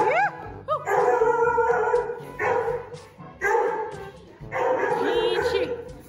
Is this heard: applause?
no